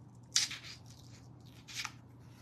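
Scissors cut an opening in a Christmas ornament, giving two short, crisp snips spaced about a second and a half apart over a low steady hum.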